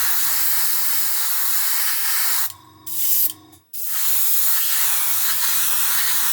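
A spray gun sprays a coat of VMS No Peel primer in a steady hissing blast, stopping briefly twice and then resuming, close and loud with a low pulsing undertone.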